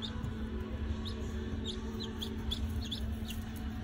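Newly hatched barnyard mix chicks, just out of an incubator, peep in quick high chirps scattered over a steady low hum, close and moderately loud with no talking.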